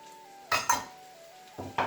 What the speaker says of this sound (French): on va laisser revenir un petit peu parce que les pruneaux et les dattes relâchent un petit peu de leur sucre